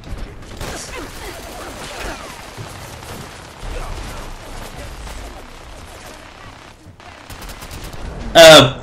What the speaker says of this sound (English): OP machine guns, I forgot.